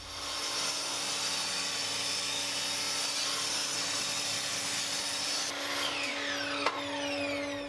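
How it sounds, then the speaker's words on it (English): A power saw cuts a wood block into half-inch slices, a loud steady buzzing whine with a rough sawing texture that shifts pitch as the blade finishes the cut. "The first thing I need to do is cut my block up. Now I'm going to make 1/2 inch slices"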